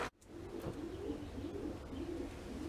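Racing pigeons cooing in a breeding loft, a continuous layered murmur of low, throaty coos close by with no talking.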